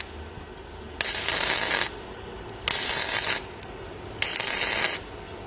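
An AUSTIN MIG/MMA 355A welder lays down three short MIG bursts, each a loud, harsh crackling buzz lasting under a second, separated by quieter pauses with low background hum.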